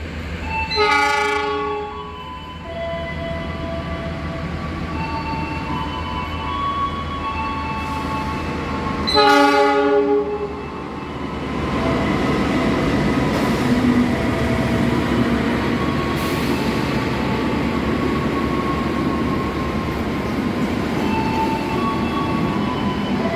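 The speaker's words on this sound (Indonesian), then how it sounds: "Sebentar lagi akan masuk kereta Joglo Semarkerto." A train horn blares twice amid the steady rumble and clatter of the Joglo Semarkerto train rolling into a station in Indonesia, with a fainter horn blast later and wheels squealing.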